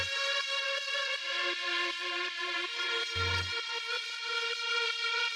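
Sustained synth pads made with Spire in a hard techno track hold bright, rich chords with gently stepping notes, interrupted briefly by a short low kick hit.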